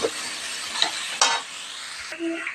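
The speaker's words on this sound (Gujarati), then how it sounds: "હવે આપણે હલાવીને મિક્સ કરી દઈશું બધું" A spoon stirs crushed cashew and almond mixed into a date sweet in a pan, giving a soft, continuous scraping hiss with a few sharper scrapes, close and alone.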